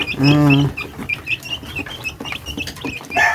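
A recovering sick chick calls out with a loud, high peeping cry, then a series of softer short peeps and chirps close by, with scattered handling noise.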